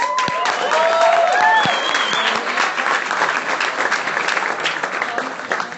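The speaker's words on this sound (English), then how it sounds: "let's give them a round of applause, please" Steady, dense crowd applause at a Halloween Horror Nights media welcome, with whistles and cheers near the start, then continuous clapping that tapers slightly.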